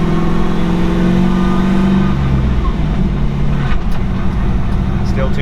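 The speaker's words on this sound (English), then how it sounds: "you're letting the clutch out too fast and you're throttling too much" A 1966 Chevy C10 pickup's engine revs and drones as the clutch is let out too quickly with heavy throttle, loud and close, with people talking over it.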